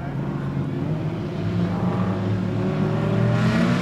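Street stock race cars at Kingaroy Speedway accelerate off the start as a dense pack. The engine roar rises and grows louder over a few seconds.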